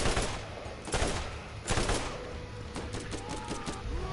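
Draco assault rifle in Borderlands 1 fires in dense, rapid bursts of loud gunfire over a busy game soundscape, with a few heavier thumps standing out.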